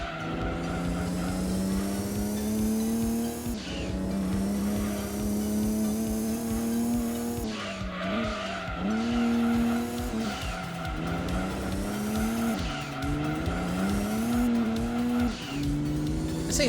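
A race car in Gran Turismo 2 howls with a steady, loud engine tone while its tires squeal in long, wavering skids, the pitch dipping and recovering through repeated slides, with no voices.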